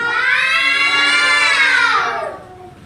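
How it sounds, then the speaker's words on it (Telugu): A group of children shout loudly together in a classroom, one sustained, high-pitched chorus of voices that holds strong for about two seconds and then drops away abruptly. "ఏంద్రా ఇంత కేకలు పెట్టిర్రా?"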